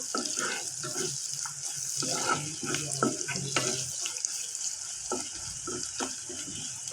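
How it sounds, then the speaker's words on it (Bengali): Pressed dried puti fish frying in a pan while being stirred, a steady sizzle with scattered soft scraping and clinks of the spatula throughout, close and continuous with no talking. "এখন এই চাপা শুটকিটা দিয়ে দিলাম, ভালোভাবে নাড়াচাড়া দিয়ে নেবো আর কি।"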